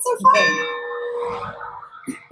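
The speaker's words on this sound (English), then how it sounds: "I'm going to ring the bell one more time" A hand bell rung at a historic little schoolhouse clangs with a bright, ringing strike that decays slowly, with faint voices and outdoor noise around it and a few small knocks at the end.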